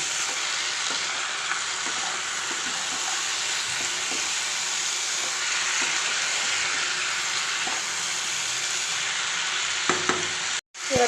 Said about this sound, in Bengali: এইবার আমি এই বড়িগুলো এর মধ্যে দিয়ে দিচ্ছি দিয়ে আবার একসঙ্গে মিশিয়ে নেব